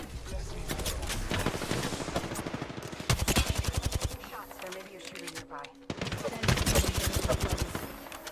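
Rapid bursts of automatic gunfire in an Apex Legends ranked match, loud and sustained, broken by a sharper volley around the middle and renewed heavy firing near the end, with commentary talking over it.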